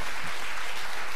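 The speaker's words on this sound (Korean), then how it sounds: "그때 박수 한번 주세요." A Korean talk-show studio audience gives a short round of applause, loud and dense clapping that holds steady for about a second.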